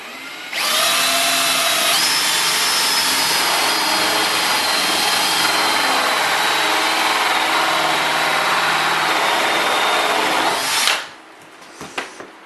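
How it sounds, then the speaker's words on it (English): A power drill runs continuously for about ten seconds at loud, steady high speed, close by, then winds down and stops, followed by a few faint clicks. "and let's drill."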